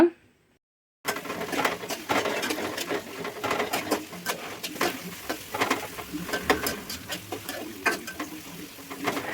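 Oil sizzles and crackles in a pan, with steady popping and spitting as sliced onions sauté with ginger-garlic paste, close and continuous after a brief silence.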